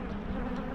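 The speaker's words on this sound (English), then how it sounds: "There's a lot of bees in them, isn't there?" Honeybees from an opened farm hive give off a steady, close buzzing drone during the spring inspection, continuous and even throughout with no voices.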